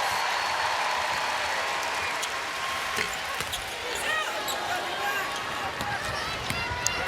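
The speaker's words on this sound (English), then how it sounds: "Big hand from the crowd." Crowd applause at an NCAA women's basketball game, UConn against South Dakota State, a steady wash of clapping and cheering from a large arena audience with a commentator talking over it.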